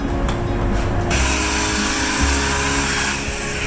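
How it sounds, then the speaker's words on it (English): An electric polisher buffs a small dent repair spot on a car panel, a close, loud steady mechanical whir with grinding undertones that shifts slightly in pitch as it works, alone without talk. "Once again, take the polisher,"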